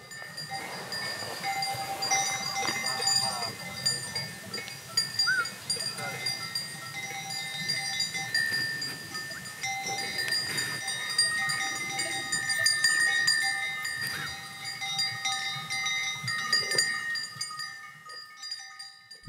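A flock of sheep is driven from a forest edge, its many bells clinking and tinkling continuously with occasional bleats, while a person talks faintly over the moving herd.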